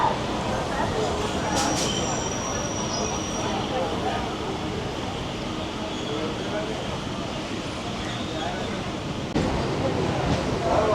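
A Kolkata circular rail local train runs with a steady, loud rumble and rattle, with brief high squeals near the start.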